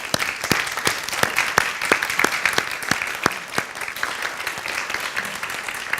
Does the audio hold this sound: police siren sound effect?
no